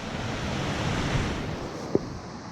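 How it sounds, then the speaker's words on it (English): River water rushes steadily through a nearby water chute in cold weather, a broad continuous roar with a single faint knock partway through and no voices. "just around the corner there, just by there, there's a water chute."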